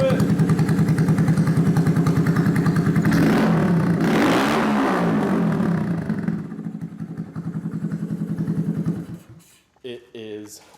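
A Honda Grom motorcycle with a loud aftermarket exhaust revs hard and steadily, its note rising to a brief peak, then settling and sputtering off near the end.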